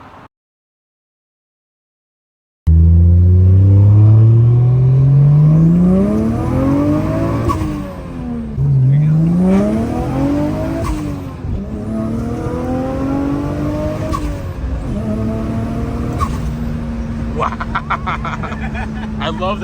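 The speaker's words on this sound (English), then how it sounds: "I love that sound. The turbo flutter is awesome." Modified turbocharged Toyota Supra revving hard several times, each rise falling back with turbo flutter, loud and close after a moment of silence, ending in a steady high idle.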